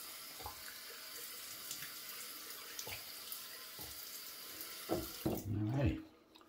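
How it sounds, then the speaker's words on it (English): A tap runs steadily into a sink, a soft continuous hiss of water with a few knocks and clatters, then the flow shuts off. "Now I'm just gonna rinse with cold water out of the sink."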